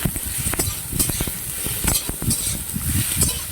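Vegetables sizzle in a pan with a little tomato for vegetable dal, a steady crackling fry with brief scraping stirs of a spoon at intervals, close and alone.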